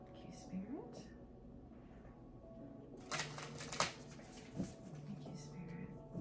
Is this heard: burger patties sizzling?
no